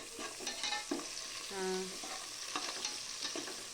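Garlic, curry leaves and cumin seeds sizzle in a hot pan as they are stirred, with scraping strokes and steady frying crackle close by, and no talking.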